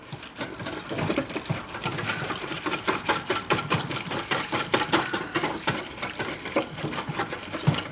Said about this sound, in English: I'm going to add the milk to the roux, and it's cold on hot, and I'm going to add it a little bit at a time